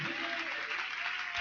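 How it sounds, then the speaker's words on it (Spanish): A church congregation breaks into loud, continuous applause during an evening Spanish-language worship service, a dense wash of many hands clapping with no gaps throughout. "Denle un aplauso fuerte a Jesucristo que está aquí en esta noche"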